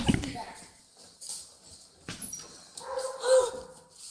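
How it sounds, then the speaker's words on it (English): A pet dog gives a few short yips and whimpers amid people talking nearby, with the barks mixed under the voices. "That's our dog."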